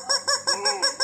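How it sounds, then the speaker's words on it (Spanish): A chicken in a neighborhood of Lomas de Cocorí, Pérez Zeledón, Costa Rica, clucking close by in a quick rhythmic series of about five short calls. "Ese es un pollo."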